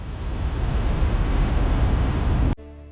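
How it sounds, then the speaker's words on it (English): A steady, powerful roar of the Nile rushing through a narrow gorge into a waterfall in Uganda, dense and continuous, cutting off abruptly near the end. "the Nile is forced through a narrow gorge before exploding into a powerful waterfall"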